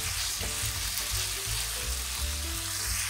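Ground beef sizzles steadily in a hot pan while a utensil stirs and breaks it up, a close, continuous frying hiss with soft scraping and knocking throughout.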